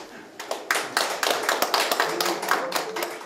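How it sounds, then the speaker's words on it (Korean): An audience at a Seoul education ordinance forum applauds, a dense burst of clapping hands that holds steady for a few seconds, close and fairly loud. "큰 박수 부탁드립니다."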